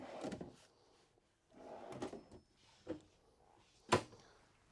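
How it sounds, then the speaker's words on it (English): Soft-close drawers in a 2024 Newmar Mountain Aire 3823 RV slide and settle shut with muffled wooden rumbles and light thuds, a few in succession, fairly quiet and close. "You also have your soft close, so you don't have all the slamming"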